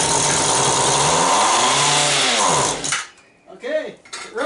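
A long-idle Mantis rototiller's small two-stroke engine fires up after a shot of starting fluid, roaring loud and close before cutting out abruptly, followed by brief sputtering bursts.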